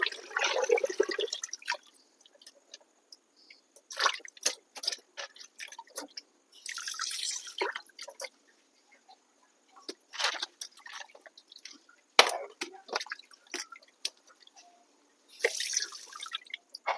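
Something is washed by hand with plenty of water: close, intermittent bursts of splashing and pouring, separated by short quiet pauses, with no voices.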